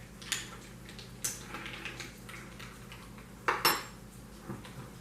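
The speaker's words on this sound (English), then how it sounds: "A little stir around here." A spoon stirs an old-fashioned made with cherry soda and bitters, giving a handful of sharp, quiet clinks against the glass, spaced irregularly and clustered near the end, with no talk.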